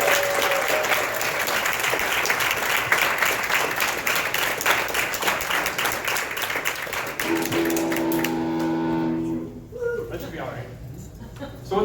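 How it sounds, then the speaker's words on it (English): A comedy club crowd in St. Catharines applauds the other comedians of the night. The clapping is sustained and full for about nine seconds, then dies away as a voice starts speaking. "how about we have a nice round of applause for all the other comedians that have been on tonight"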